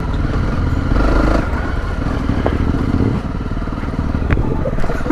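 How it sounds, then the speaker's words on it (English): A Honda NC700S motorcycle engine runs loud and close during off-road riding, a steady rough throb with clattering and crackling from the terrain throughout, and no speech over it. "If I hear the engine start racing"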